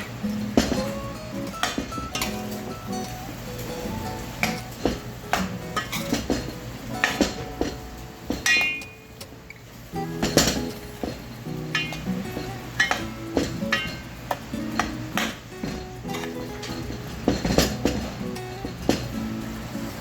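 Blanched green mango is stirred into a pot of curry with a spoon, giving repeated clinks and scrapes of metal against the pot over a steady low background, close and fairly loud.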